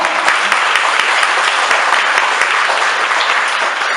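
Sustained audience applause for the staff at an evening gathering, loud and even throughout, with a few sharper individual claps standing out from the crowd.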